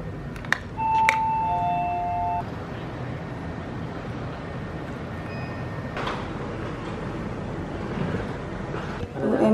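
An electronic doorbell at an Airbnb in Hanoi, Vietnam chimes two tones near the start, followed by muffled ambient noise, wind rumble and faint voices.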